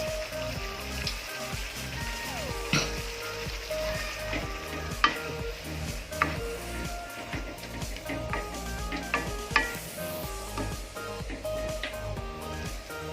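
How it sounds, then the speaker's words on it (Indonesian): Coconut milk being stirred into curry sauce in a pan for chicken katsu, with a steady close sizzle and bubbling, light scraping and occasional utensil clinks, no talking. "yang terakhir kita tambahkan santan ya guys"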